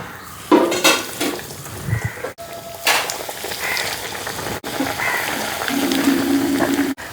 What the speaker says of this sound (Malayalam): ഇനി നമുക്ക് പൊരിച്ചെടുക്കാം.